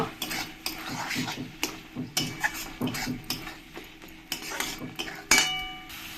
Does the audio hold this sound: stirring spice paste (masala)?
yes